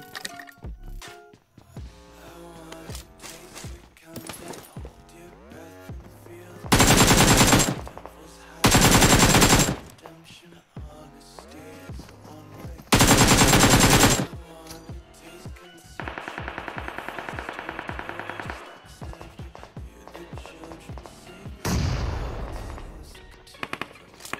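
Video game gunfire crackles in single shots and long, loud automatic bursts, including several sustained sprays of machine-gun fire separated by quieter gameplay sounds.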